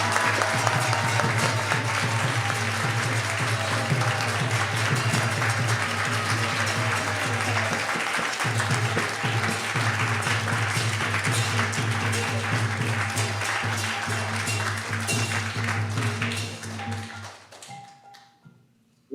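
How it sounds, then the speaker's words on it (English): A crowd applauds at an initiation ceremony in an ISKCON temple, with sustained dense clapping that stays loud and even for many seconds before fading out at the end. "Let's give her one more round of applause."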